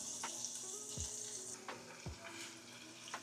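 Meat frying in a pan gives a steady, close sizzle, with a few soft clanks and scrapes of a utensil turning the pieces.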